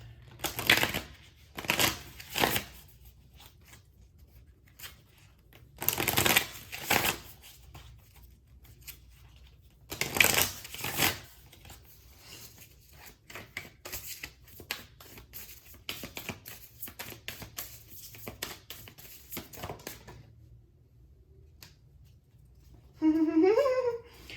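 Affirmation cards being shuffled and drawn by hand, with several bursts of riffling, flicking paper between softer handling sounds, close and without talking, followed by a brief rising tone at the end.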